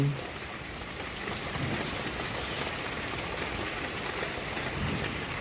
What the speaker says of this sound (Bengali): এতক্ষণ হুলুস্থুল বৃষ্টি হচ্ছিল